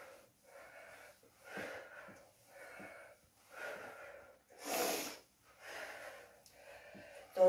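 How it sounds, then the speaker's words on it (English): Heavy, labored breathing during a cardio abs HIIT workout, a steady series of loud wheezing inhales and exhales in a repeating rhythm, close and alone without speech. "I am most definitely breathing."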